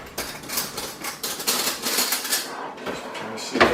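A spoon clinks repeatedly against a pot of cold tomato soup, a string of bright metallic taps in quick, uneven rhythm, close and clear, ending with a sharper knock.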